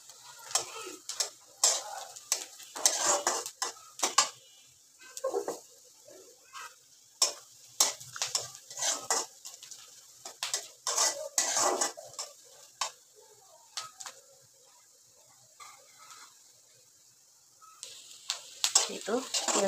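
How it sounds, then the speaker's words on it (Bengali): Onions lightly frying in a pan, stirred repeatedly with a utensil: a steady soft sizzle broken by frequent scraping clicks over about twenty seconds, with a dog barking now and then in the background. "পেঁয়াজটা একটু হালকা ভাজা দিয়ে নিব, বেশি ভাজবো না"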